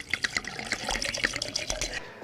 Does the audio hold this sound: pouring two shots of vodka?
yes